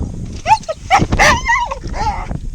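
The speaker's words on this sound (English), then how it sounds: "Going to release the mad dogs." Dogs bark, yip and whimper excitedly up close as they are let out on a windy day at Ashdown Wood, several short uneven bursts with no talk.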